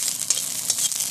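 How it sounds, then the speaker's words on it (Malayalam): Grated coconut fries in ghee for neyyappam, a close, bright sizzle with crackling bursts and soft stirring scrapes over about a second. "നെയ്യപ്പത്തിനുള്ള തേങ്ങ നെയ്യിൽ വറുക്കുകയാണ്."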